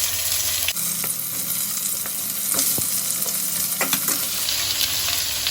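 Pointed gourd slices frying in the small amount of oil left over from frying fish, a steady close crackling sizzle with occasional stirring scrapes and clinks throughout.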